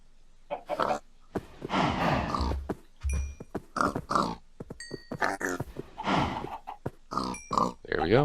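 Pigs oink and grunt in the Minecraft video game during farming, several short snorting calls spread across the stretch with brief pauses between them, clear and fairly close.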